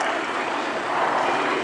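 An Antonov An-2 biplane's piston engine drones steadily overhead at an airshow reenactment, a loud broadband roar holding even throughout.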